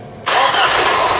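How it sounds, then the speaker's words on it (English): Ford Cortina Mk3 starter motor cranks briefly and the engine catches abruptly, settling into a loud, steady running note close to the car after a quiet moment. "I like the starter motor. It's very positive engagement and really throws the engine round."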